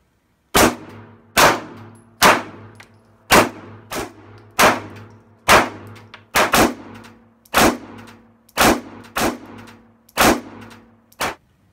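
A Glock 26 Gen 4 9 mm pistol fires about fourteen loud, sharp shots in a steady, fairly even rhythm, each with a short ringing tail.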